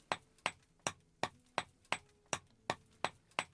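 Metal chisel strikes at a workbench in Vintage Story, a copper chisel working material: about ten sharp, evenly spaced taps, close and clear, each with a quick ringing decay, with no talk.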